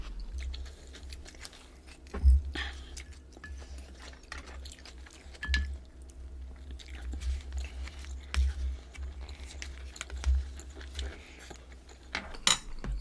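Soft, close chewing of salmon during a mukbang, with irregular wet bites and crunches plus occasional clinks of cutlery against dishes, quiet and without talk.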